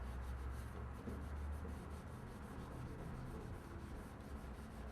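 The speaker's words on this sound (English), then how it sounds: "Then take the rag with the finger and just kind of rub it in there." A rag rubs car polish into the paintwork by hand, working it into tight spots a buffer cannot reach; a steady, soft, continuous scrubbing hiss, close and quiet, with no voices.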